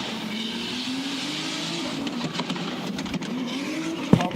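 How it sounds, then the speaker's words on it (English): A Nissan Cefiro drift car circles a track at a drift series event, its engine droning and rising in pitch from middle distance, with tire noise and a sharp bang or pop near the end. "Move that big old Nissan Safiro around the track."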